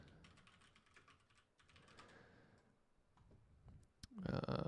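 Typing on a computer keyboard, two quick bursts of rapid key clicks followed by a few scattered taps, then a louder clatter at the end.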